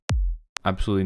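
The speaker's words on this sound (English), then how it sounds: "I like this kick because it has a really nice little transient here and a clean sine wave" One kick drum sample from Splice with a sharp transient and a deep, clean sine-like tail that quickly drops in pitch and fades, followed by a person speaking briefly.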